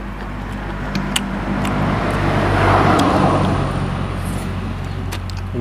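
Steady broadband road noise of cars rolling past, swelling slightly in the middle as a vehicle goes by, with faint distant tones above.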